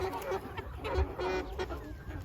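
Chickens on a desi poultry farm cluck in short irregular bursts over a steady background hum, fairly close and moderately loud.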